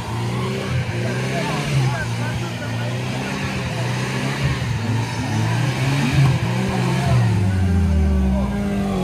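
An off-road racing car in a trophy sprint event approaches sideways, its engine roaring loudly and steadily with rising and falling revs, while a commentator talks over it.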